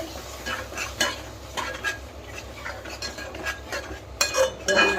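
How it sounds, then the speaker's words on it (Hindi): A utensil scrapes and clinks against a pan while fish curry (kalia) made with rohu and yogurt is stirred, giving irregular metallic knocks over a soft sizzle, close and moderately loud. "पूरा मिक्स करदे भलसे।"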